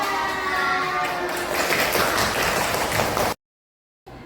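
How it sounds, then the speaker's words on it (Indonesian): Applause from an audience at a school dissemination event on positive learning culture, a steady, dense clapping that holds evenly, then cuts off abruptly into silence before a faint resumption. "Tepuk tangan ya kita semua"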